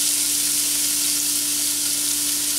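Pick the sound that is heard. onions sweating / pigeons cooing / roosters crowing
onions sweating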